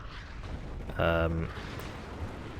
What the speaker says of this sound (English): Shoot the artillery. This artillery piece was a good investment.